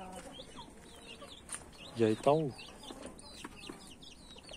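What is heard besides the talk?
rooster clucking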